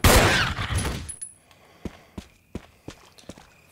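Gunfire in the Resident Evil video game: a dense burst of rapid shots opens, then about seven separate sharp reports at an uneven pace. No one talks.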